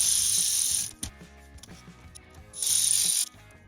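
A hand ratchet tightening bolts on a Jeep JKU shift tower during manual transmission replacement, with two bursts of rapid metallic clicking separated by quieter clunks and handling noises, close by.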